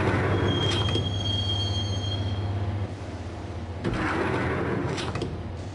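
A subway train in Max Payne rumbles along the rails with a thin metallic wheel squeal early on, steady loud clatter and a couple of heavier jolts later, with no talking.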